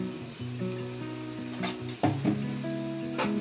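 Steady sizzling of butter chicken frying in a pan as chili powder is stirred in, with scraping spoon strokes against the pan and a few sharper metallic clinks, no voices.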